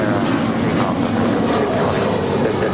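An Alaska Airlines Boeing 737-900ER in special livery departs LAX, giving a steady, loud broadband roar of jet engines throughout with no talk.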